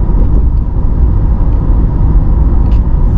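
Steady low engine rumble from a 2020 Corvette C8 Z51 cruising in normal mode with automatic shifts around 2000 rpm, a continuous droning road and cabin hum with no distinct shift breaks.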